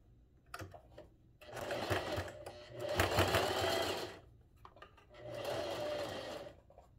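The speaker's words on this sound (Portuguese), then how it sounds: "Puxa aqui o tecido, deixa a agulha dentro do tecido, ó. E retrocesso." A sewing machine stitching fabric runs in three loud bursts of rapid mechanical whirring, with short pauses between them and a reverse stitch at the end. It is heard up close and alone, with no talking.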